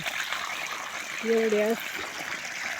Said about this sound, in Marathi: पाण्याची धार पाहतो मी किती चालू, फक्त थोडंसं पाणी चालू त्याचं नॉर्मलमध्ये